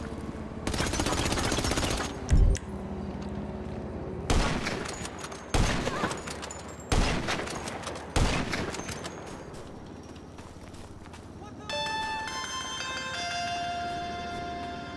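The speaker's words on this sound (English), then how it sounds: "stop shooting up my house!" Bursts of automatic gunfire hit a house in the video game GTA 5, coming in several loud, rapid volleys separated by short pauses. A ringing, bell-like tone follows near the end.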